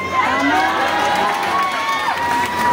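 A crowd at a political event in Manila shouts and cheers continuously, a loud dense mass of voices with rising and falling calls throughout.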